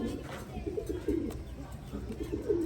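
Pigeons coo softly in a short series of low, rounded calls close by, with faint background noise around them.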